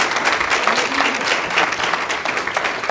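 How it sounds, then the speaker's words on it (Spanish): Loud, dense applause from a church congregation during an evening service, continuous and even from start to finish with no talking over it. "Denle un aplauso al Señor en esta noche."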